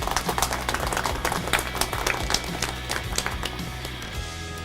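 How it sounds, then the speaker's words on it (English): Audience applause at a corporate workplace awards ceremony in 2014, a steady dense wash of many hands clapping at moderate volume throughout, with no voices over it. "And a round of applause for DLF Foundation."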